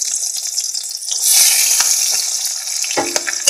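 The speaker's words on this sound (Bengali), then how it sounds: "এবার এইভাবে কেটে রাখা পেঁয়াজ আমি এর মধ্যে দিয়ে দেব।" Chopped onion hitting hot oil in a pan already tempered with a dried red chilli, giving a bright, steady sizzle that rises after a moment and continues close up, with a faint clink of a utensil near the end.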